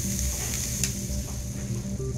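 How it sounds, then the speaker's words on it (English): Bacon cooks on electric current drawn straight from a wall socket, giving a quiet, steady crackling sizzle with a faint high whine and small pops throughout. "You can hear that sizzle."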